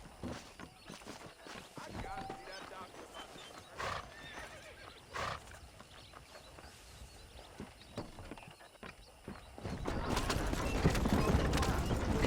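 Horse-drawn wagon ride in the video game Red Dead Redemption: clip-clopping hooves, wheel rumble and occasional horse whinnies, with people talking over it and the rolling noise growing louder toward the end.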